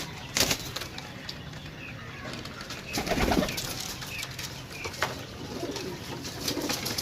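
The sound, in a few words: domestic pigeons cooing and flapping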